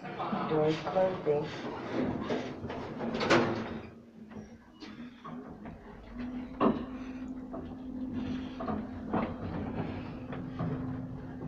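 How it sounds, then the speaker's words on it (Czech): Elevator doors slide shut in a Czech department store lift, a soft rumbling glide with a clunk partway through, heard under people talking nearby. "Dveře se zavírají."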